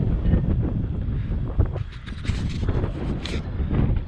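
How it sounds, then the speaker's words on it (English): Strong outdoor wind buffeting the microphone on a roadside during an RC car session, heavy low rumbling gusts that surge and drop throughout, with no other clear sounds on top. "and it's really windy today."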